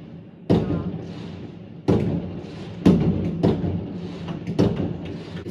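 Several booming New Year fireworks go off at irregular intervals in Russia, each a sharp broadband burst with a short decay, bursting at a distance.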